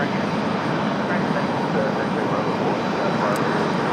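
A Delta airliner taxis at Raleigh-Durham International Airport, its engines a steady, loud, continuous roar with no breaks, heard from fairly close.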